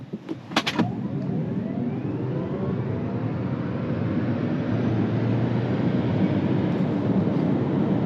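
A 2024 Subaru Solterra Touring accelerates in eco mode, a smooth, steady rush of road and wind noise building from inside the cabin with no engine note, a few faint clicks at the start.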